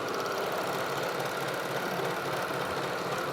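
A Bernina 1300MDC serger stitching fabric with differential feed, a steady close mechanical whir running without pause and with no talking.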